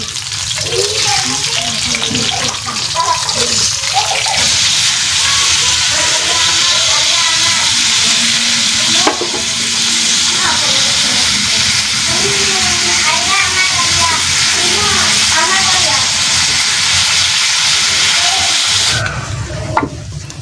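Eels added to a pot of boiling water, with loud continuous bubbling, splashing and stirring, close and dense throughout, while a voice talks over it.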